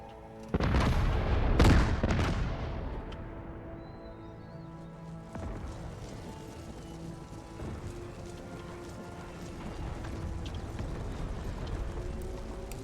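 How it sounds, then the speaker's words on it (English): Mortars and battlefield guns in the Empire Total War strategy game, a loud rumbling barrage of booms at the start, then a long steady din of distant firing and clatter, with no talk. "They're the mortars."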